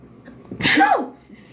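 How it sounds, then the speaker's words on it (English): One sharp, close sneeze from a person bursts out after a quiet intake, loud and brief, with a soft breath trailing after. "Sorry, I just sneezed."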